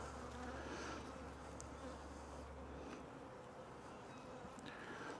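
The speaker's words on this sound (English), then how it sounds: "There's a lot of bees down here." Honeybees hum in a dense, steady drone around an open hive during a split, close and continuous with no voices.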